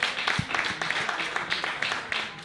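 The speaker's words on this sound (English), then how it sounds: "Give yourself a round of applause." Comedy-club audience at the Broadway Comedy Club applauding, dense steady clapping from a crowd throughout, close and fairly loud with a few louder individual claps standing out.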